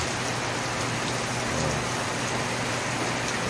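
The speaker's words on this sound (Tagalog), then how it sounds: "lakas ng ulan lakas talaga ng ulan dito mga kaibigan" Dense, heavy rain hammering down steadily, loud and close, with no pauses.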